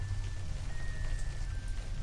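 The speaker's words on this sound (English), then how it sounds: "You stand outside the rain?" Steady rain falling in a video game, a soft continuous patter over a low hum, unbroken and moderately quiet with no talking.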